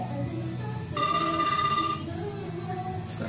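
An outgoing telephone call rings on the line, a single steady electronic ring tone lasting about a second over a faint background hum, with no talking.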